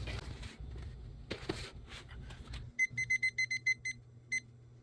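Kitchen timer beeping after being set while baking keto pizza rolls, a rapid series of about eight short, bright electronic beeps, fairly close and clear, following a stretch of muffled kitchen handling noise.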